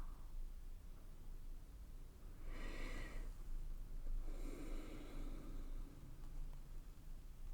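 A slow, soft breath drawn in, then a longer airy inhale a moment later, close and hushed over steady background hiss, in a quiet guided meditation.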